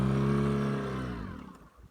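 A 2018 Mercury 9.9 Pro Kicker outboard motor runs at low idle with a steady, close humming drone that wavers slightly, then thins and fades over the final moments.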